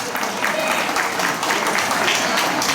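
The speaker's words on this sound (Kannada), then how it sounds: "ನಿಂತಲ್ಲೇ ಒಂದು ಚಪ್ಪಾಳೆ ಬರಬೇಕು" A large audience at a Yugadi community celebration breaks into dense, even applause for the organizing committee, a steady crackling roar of many hands sustained throughout.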